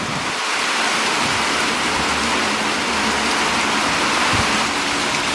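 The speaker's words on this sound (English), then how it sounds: "Lightning is constant, the rain is constant." Heavy rain pours steadily on a farmhouse yard and garden during a thunderstorm with constant lightning, a loud, dense hiss with no break through the whole stretch.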